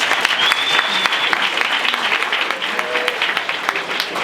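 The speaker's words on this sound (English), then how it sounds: "we're going to give a round of applause" Audience applause at a business pitching event, a steady, dense wash of clapping from a crowd lasting about four seconds, loud and continuous with a faint whistle-like tone early on.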